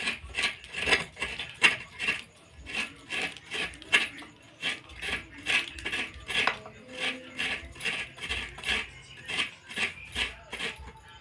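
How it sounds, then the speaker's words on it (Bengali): Fresh coconut being grated by hand against a bonti blade into a plate, a steady run of about twenty rhythmic scraping strokes, close and fairly loud with no talking. "আমি নারকেলটা কুড়িয়ে নিই"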